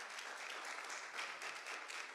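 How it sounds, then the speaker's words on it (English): Applause from family members and attendees at a council meeting honoring staff, a steady, dense wash of clapping that holds evenly for a couple of seconds with no voices over it. "Round of applause, yes."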